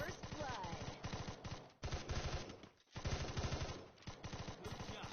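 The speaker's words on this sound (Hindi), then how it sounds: "मुझे अपने अपोनेंट्स के फायर करने की आवाज सुनाई देती है" Rapid automatic gunfire from the mobile battle royale game Free Fire, bursts of fast repeated shots with brief gaps, mixed with other game sounds at low level.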